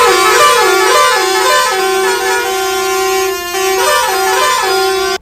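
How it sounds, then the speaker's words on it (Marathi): A newly fitted musical truck horn blaring a loud, close melodic tune with rising and falling notes, sounding continuously for about five seconds with no talk. "लगेच हॉर्न बसवून घेतला"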